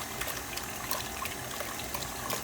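Liquid trickles and splashes steadily as it is strained off through a strainer while making homemade butter with ice water, a continuous soft watery patter with no talking.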